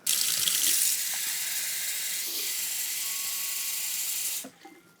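Warm water runs steadily from a tap with a bright, hissing rush for about four seconds while making bread, then cuts off, leaving a faint clink.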